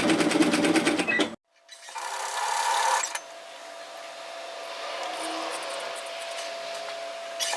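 A sewing machine stitches binding around the armhole of a floaty top, a fast steady whir that cuts off briefly, then resumes, followed by a quieter sustained hum.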